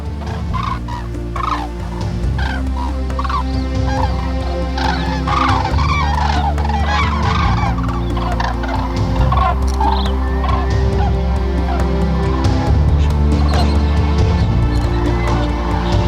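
Cranes calling at a resting ground on the Baltic coast of Germany, a dense, continuous chorus of many overlapping trumpeting and rattling bird calls, loud and sustained throughout with no voices.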